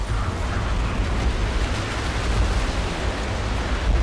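Thunder rumbles during a storm in Left 4 Dead 2, a loud, continuous deep roar with a wide noisy wash like wind and rain, sustained without distinct cracks.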